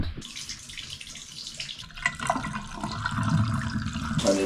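Water runs steadily from a bathtub tap to rinse a sleeping bag, a continuous splashing rush that swells and grows fuller toward the end as the tub fills, close and alone.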